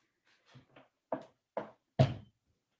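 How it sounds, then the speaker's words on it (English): Knocking on a door: several separate knocks, hollow and fairly close, spaced unevenly and growing louder toward the final firm rap, with no talking. "And somebody's at my door."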